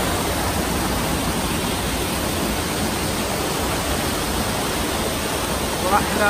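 Steady broadband rushing of a river flowing right beside a riverside cabin, a loud, constant wash of water with no pauses and no talk over it.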